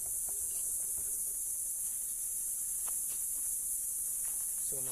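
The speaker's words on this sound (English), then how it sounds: "that's the cicada singing to us" Cicadas sing in summer heat as a continuous, loud, high-pitched buzzing drone that never lets up, steady throughout with a few faint clinks and rustles nearby.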